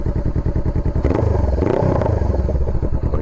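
A motorcycle fitted with a Coffman Shorty exhaust rides past loud and close, with a deep, rapid, throbbing exhaust note that thickens and swells as it picks up throttle, heard alone without talk.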